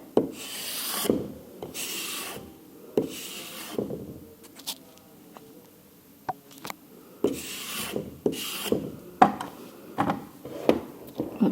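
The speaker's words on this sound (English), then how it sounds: "I'm just scraping this back to reveal the seam even more" A palette knife scrapes back a thin layer of plaster along a mould seam in a ceramics workshop, giving repeated short rasping strokes in bursts with quieter pauses of small taps and handling between.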